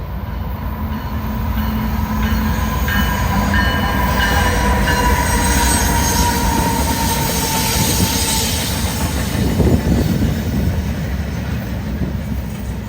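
A CSX freight train rolls past the Alexandria Amtrak station in a loud, continuous rumble with rhythmic wheel clatter and intermittent high metallic squeals from the wheels.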